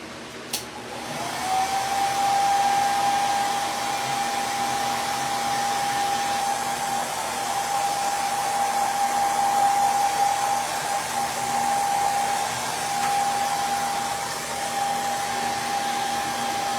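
A hair dryer blows steadily on a handmade craft project with wooden flowers, its whirring hum starting after a brief click and running close and constant.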